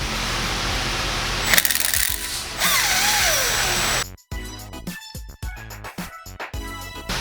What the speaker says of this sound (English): now I'm going to take the retainer plate off for the cam